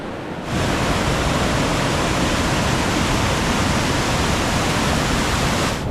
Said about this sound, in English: looking at a raging torrent of water below you